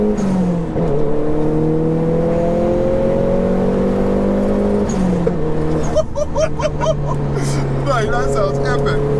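A 340BHP Nissan Pulsar GTI-R hatchback accelerates hard through corners, its engine note climbing and dropping through gear changes, close and loud throughout.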